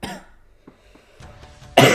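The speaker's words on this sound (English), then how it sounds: "I still have a little bit of a cough, so you'll have to excuse me." A person coughs in a short burst at the start, then a quieter stretch with small noises, ending with another loud, harsh cough or throat-clearing burst.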